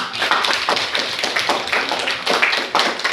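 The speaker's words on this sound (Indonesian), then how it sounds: "Oke, tepuk tangan untuk si kita." A high school class claps together indoors, producing a steady run of sharp, fairly loud claps with an uneven rhythm throughout and no talking over it.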